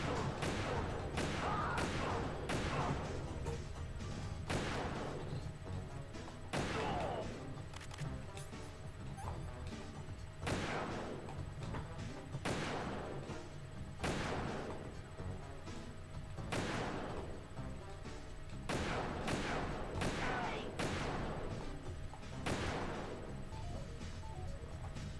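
Gunshots ring out in the video game Metal Gear Solid 2: Substance on PlayStation 2, a series of sharp, loud cracks spaced irregularly across a quiet ambient background.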